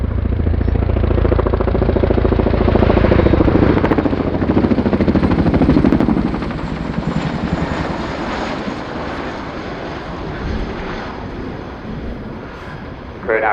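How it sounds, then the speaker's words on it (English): A display aircraft at the RIAT airshow roars low toward the crowd, a loud, broad engine blast peaking and then fading to a steady distant drone as it pulls away. "JT's now going to run the aircraft back in towards you in the crowd with the nose low, accelerating towards you"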